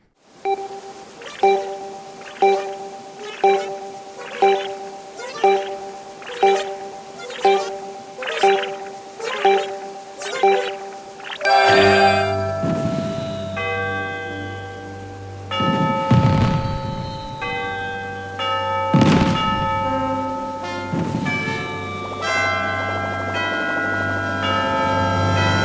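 New Year's fireworks in Animal Crossing New Horizons, beginning with a steady run of chiming countdown tones that give way to booming bursts and bright, ringing crackles layered over a sustained festive background.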